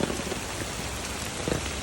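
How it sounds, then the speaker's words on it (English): Heavy rain pours steadily during an atmospheric river beside the San Pablo waterway, a dense, even hiss of drops hitting surfaces close by, with no speech. "It's raining more and more."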